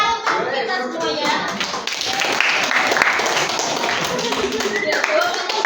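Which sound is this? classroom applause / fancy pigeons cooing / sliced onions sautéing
classroom applause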